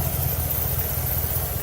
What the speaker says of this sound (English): Well, the exhaust sounds good.